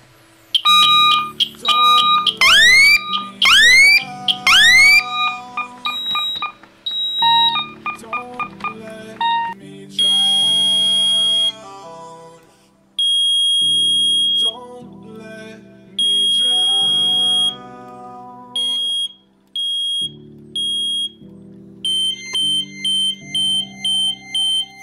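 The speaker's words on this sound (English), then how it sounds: "We're gonna end it off by activating the smoke detector." Electronic alarm beeping repeatedly in loud, high-pitched bursts with varying tones, mixed with musical notes and synth patterns throughout.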